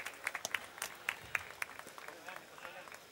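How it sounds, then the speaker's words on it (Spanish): Scattered clapping for a jockey at a horse race prize ceremony from a small group, uneven and moderately faint, with individual claps standing out against a murmur of background voices. "Vamos a darle un fuerte aplauso al jockey"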